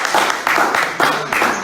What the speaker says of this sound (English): You can hear us clapping for you.